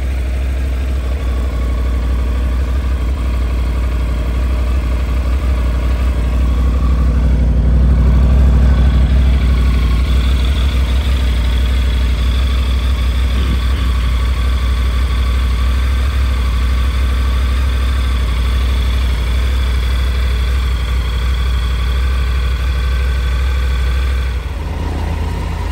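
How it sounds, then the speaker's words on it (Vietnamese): A Triumph Tiger 900 motorcycle idles just after an oil change, a loud, steady close engine drone lasting throughout with slight swells in intensity and no talking. "xong rồi thì mình nổ máy cho nhớt nó bơm lên động cơ hả các bạn"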